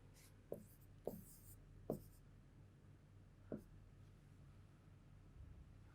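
Chalk or marker tapping and scratching on a board during a maths lesson, a handful of short separate strokes over a low steady room hum.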